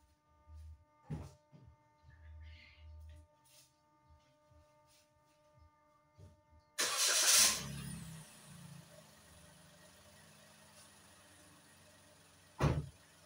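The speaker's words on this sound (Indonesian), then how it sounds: "Nah, ini sekarang saya akan nyalakan mesinnya ya." A Toyota Raize engine starts: quiet clicks and thumps, then a sudden loud start about halfway through that settles into a steady low idle, with a sharp knock near the end.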